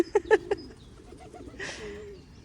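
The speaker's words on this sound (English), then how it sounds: "We seem to have attracted a lot of pigeons." Pigeons in a park give a few soft, close coos in quick succession near the start, then a quieter murmur with a faint rustle, no voices.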